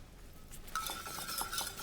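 Dressing seasoned with salt and pepper whisked in a bowl, a steady run of light metallic scraping and clinking that starts partway in and continues close and alone.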